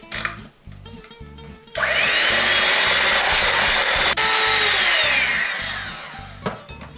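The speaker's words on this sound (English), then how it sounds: "add the sugar, and then give them a good whisk up until they're nice and creamy" Egg yolks and sugar are whisked for a tiramisu: after a brief clatter, a loud, close whirring starts abruptly and holds for about five seconds, then fades out.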